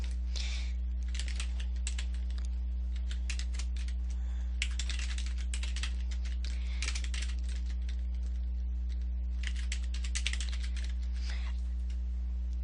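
A password is typed on a computer keyboard in quick bursts of clicking keystrokes, broken by short pauses, over a constant low electrical hum.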